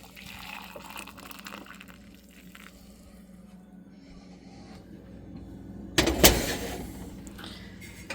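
Hot water from a stovetop teapot is poured to make tea in a home kitchen. A quiet, low background gives way to a sudden loud splashing rush of liquid that fades over a couple of seconds.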